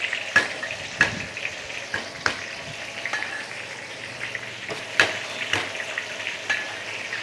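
Crushed garlic, ginger and spices sautéed in a hot pan for a slow-cooked chicken dish: a constant close sizzle punctuated by regular sharp clacks of a spatula against the pan.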